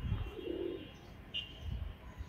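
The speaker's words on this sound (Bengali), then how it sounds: "একটা কবুতর ছাড়লে সবগুলো কবুতর ডাকাডাকি করে" Pigeons coo softly in a loft, a low, faint, throaty call in the distance, with no talking.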